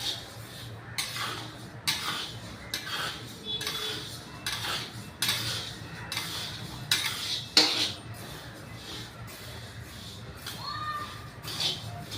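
Dal dry-roasts in a pan for chakli bhajani flour while a metal spoon stirs it steadily, giving rhythmic scraping and clinking strokes about once a second, close and clear with no talk.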